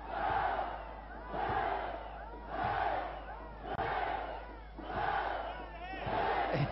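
A crowd roars and cheers at a wrestling match in repeated swelling waves, loud and distant-sounding, rising and falling several times like an arena reacting to the action.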